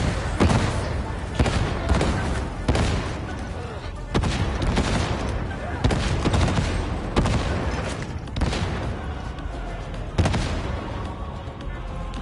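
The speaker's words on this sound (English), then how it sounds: "That's my grenades." Grenade blasts in Warhammer 40K Darktide, played as an Ogryn Skullbreaker on PS5, with grenades that break into smaller shrapnel sections: a chain of loud, dense explosive bursts and gunfire-like cracks repeating every second or so, with a voice talking over the din.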